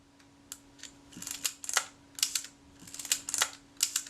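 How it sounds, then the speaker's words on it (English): A Kodak Retinette type 030/9 camera shutter being cocked and fired on a workbench, a series of crisp small mechanical clicks and snaps, close and quiet, repeating in irregular bursts with a faint steady hum underneath. "I'll just try the shutter without the flash connection. I want to see if it cocks and fires."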